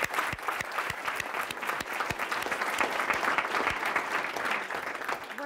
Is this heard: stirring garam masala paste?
no